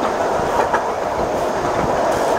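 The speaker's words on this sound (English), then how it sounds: "Now you notice that track sounds like an jointed rail, which it is" Train wheels on jointed rail track rumble close and loud during a museum train ride, the railcar's steady roll carrying faint repeated clicks from the rail joints.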